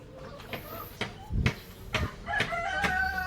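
Deca Brown laying hens in a coop make short clucks and squawks in irregular bursts, fairly close, with some rustling and a longer drawn-out call near the end.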